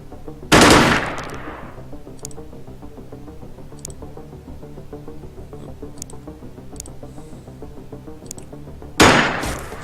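Two loud bursts of automatic gunfire fired at a destructible wall in the strategy game Xenonauts, one at the start and one near the end, with quiet ambient game music in between.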